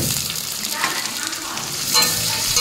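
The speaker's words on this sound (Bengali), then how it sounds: "এটা লাল লঙ্কাটা ভেজে নিয়ে নরম হয়ে যাওয়া পর্যন্ত" Red chili sizzles in hot oil in a pan, a loud steady frying hiss with a few bursts of crackle, close up and alone.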